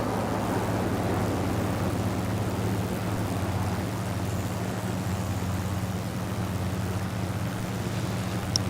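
A jet's engines in Microsoft Flight Simulator, heard from an external view of a Eurofighter Typhoon at Duxford, hold a steady low droning hum with a faint whine above it, constant and unbroken throughout.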